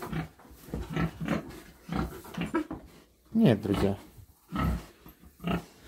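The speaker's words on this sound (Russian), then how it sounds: "вообще она добрая свинья" A pet pig grunts and snorts close by during a feeding check, short rough bursts scattered among people talking.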